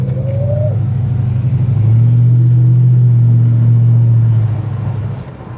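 Classic Mopar Barracuda convertible engine rumbling loudly and revving up as the car pulls away, a sustained low drone that swells and holds before easing off, with a faint bird call early on.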